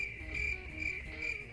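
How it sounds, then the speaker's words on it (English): Crickets chirp in a steady, pulsing trill, used as a sound effect, moderately loud and alone without any voices. "crickets. Nothing but crickets."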